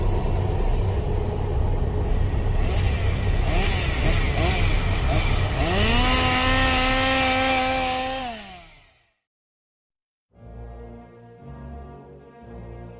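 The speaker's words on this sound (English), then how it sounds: "This is a chainsaw-wielding maniac from Haunted Overload in Lee, New Hampshire" Chainsaw engine roaring loud and steady at a haunted attraction, pitch rising sharply then falling away into a pause, followed by a brief lower rumble at the end.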